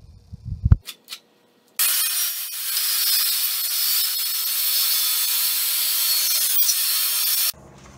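Hand sawing wood from a used crate, a few short taps first, then a continuous loud rasping saw stroke sustained for several seconds before stopping abruptly.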